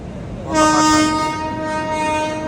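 A passenger train pulling into a busy Indian station on the Amritsar route sounds a loud, sustained horn blast close by, its tonal note holding over a low rumble of rolling wheels and platform noise.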